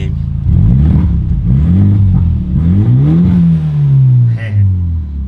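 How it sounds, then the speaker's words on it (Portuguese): BMW Z4 engine with only the exhaust pipe modified, running steadily close by with rising and falling revs, loud throughout, while someone talks over it. "Deixa eu só desligar esse motor aqui que tá fazendo um barulho"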